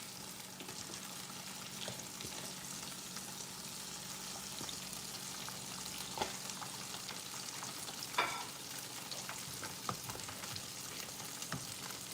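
Thick grits cooking in a pot, with a steady soft bubbling sizzle and scattered scraping clicks as they are stirred, heard close and alone.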